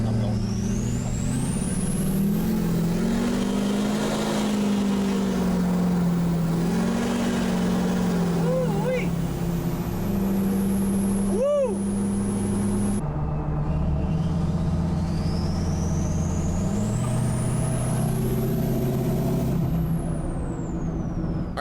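Tuned and deleted pickup truck with a new fuel pump accelerating hard: a loud, continuous engine drone that swells and dips in pitch as it revs, with brief higher whines over the steady roar.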